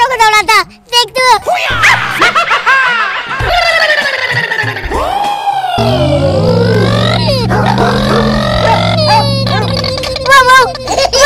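A small dog barks, yips and whimpers as a remote control car chases it. Loud voices overlap the dog throughout.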